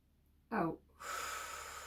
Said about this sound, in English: Breathe in and out.